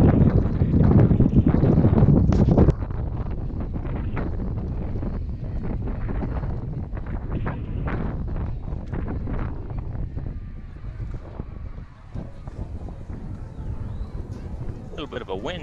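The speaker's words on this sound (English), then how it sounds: "Bit of a wind gust there, had to grip the old umbrella." Gusty wind buffets the microphone at an outdoor softball state semifinal, a loud rumbling roar for the first few seconds that then eases into a steadier, lower blustering under a commentator's voice.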